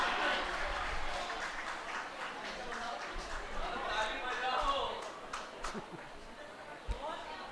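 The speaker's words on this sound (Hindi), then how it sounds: "जोरदार तालियां।" Audience applause at a primary school Teachers Day celebration, a steady broadband patter of clapping filling the whole stretch at moderate level, with crowd chatter mixed in.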